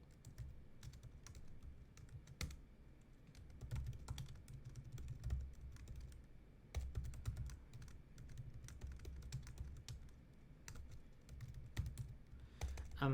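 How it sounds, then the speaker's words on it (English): Someone types code on a computer keyboard in a quiet room, a fast, irregular run of light key clicks with occasional heavier strokes, continuing without pause and with no talking. "let's type that code in"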